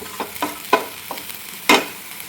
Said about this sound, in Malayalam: ഇനി ഇത് നന്നായിട്ടൊന്ന് ഫ്രൈ ചെയ്തെടുക്കണം.